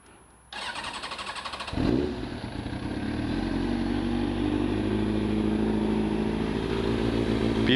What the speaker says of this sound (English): I'll give you an exhaust note.